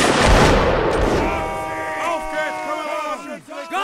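Musket volley in the multiplayer game Mount & Blade during a Napoleonic line battle: a loud burst of gunfire at the start rolls off into scattered shots, with several voices shouting and talking over the tail.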